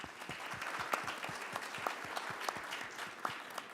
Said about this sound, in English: Please give a round of applause to the panelists.